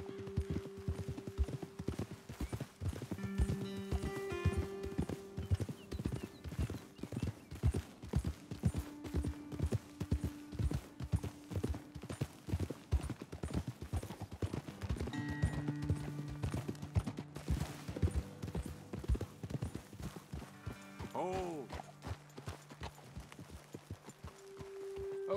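Horses' hooves clip-clopping in the video game Red Dead Redemption 2, a steady close walking rhythm continuing throughout, with occasional whinnies and brief low speech in between.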